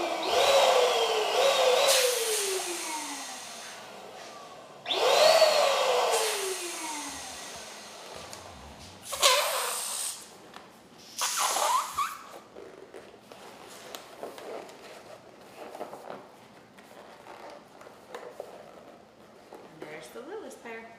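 A small hand pump inflating party balloons with narrow tips, each stroke a loud whooshing burst with a sliding whistle; two strong pumping runs near the start, then shorter bursts and quieter handling noise.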